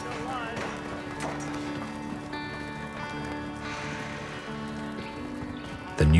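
Hooves of newly captured wild mustangs clatter in a steady clip-clop as the horses are moved about, with rustling and a sudden loud bump at the end.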